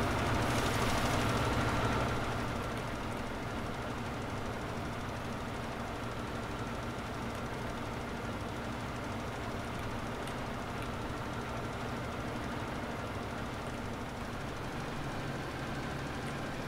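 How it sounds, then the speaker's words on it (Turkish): A tractor engine runs steadily while driving over a bumpy, uneven farm field, a continuous low rumbling drone with rattling, slightly louder at the very start, no voices. "Bayağı sallanıyor traktör, baksana"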